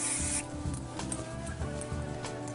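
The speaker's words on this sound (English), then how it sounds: "I'm going to apply a little bit of spray," A short hiss of hair spray bursts out at the start, followed by soft rubbing and brushing sounds of hair being combed close by.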